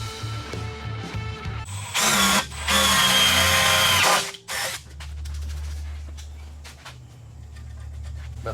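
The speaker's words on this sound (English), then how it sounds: "That's self-tapping drill bit." A power drill drives a self-tapping drill bit during trailer wiring work, with short pulsed bursts, a loud high-pitched whirring spell, then a lower sustained hum, close by.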